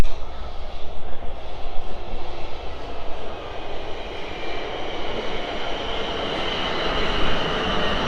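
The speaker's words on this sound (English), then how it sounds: "And here comes the other train." A train pulls into Farnborough station on the South Western Main Line. Its rolling rumble and rising whine fill the platform and build steadily over several seconds, with no speech.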